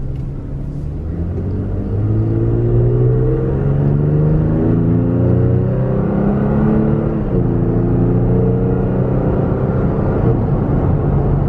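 A 2020 Toyota Tacoma accelerating up to speed, heard from inside the cab as a loud, close engine rumble climbing in pitch through several gear shifts, with no one talking.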